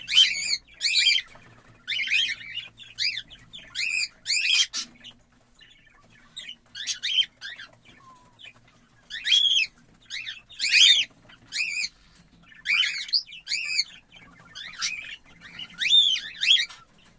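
Young, newly weaned cockatiels chirp and squawk in repeated shrill bursts, close and loud, with brief quiet gaps between the calls.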